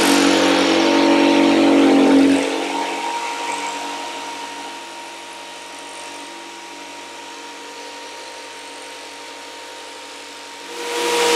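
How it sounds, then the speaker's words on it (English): A power saw fitted with a fine-tooth blade cuts thin material for a leather wet-mold pattern. It runs loud and close for about two seconds, then drops to a quieter, steady whir as it winds down, with no talking. "switched out the normal wood blade for a fine tooth blade because this is very thin"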